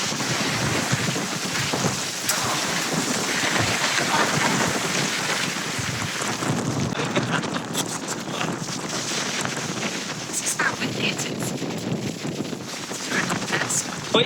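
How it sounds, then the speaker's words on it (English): Strong wind from Storm Emilia in the Canary Islands roars across the microphone in a loud, unbroken buffeting rush, with rain and surf-like noise mixed in and no pause. "It's how windy it is."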